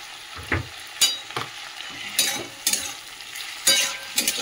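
Potatoes fry in a pan with chopped tomato, green chilli and ginger-garlic paste. Sharp spatula scrapes and stirring strokes come in uneven bursts over a low, close sizzle.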